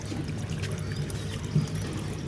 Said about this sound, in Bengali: এই যে আওয়াজ হচ্ছে এটা ট্যাঙ্কে জল ভরছে তো সেই আওয়াজ